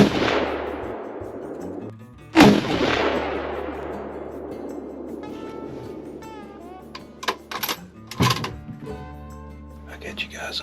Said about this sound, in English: I just shot at 2 does.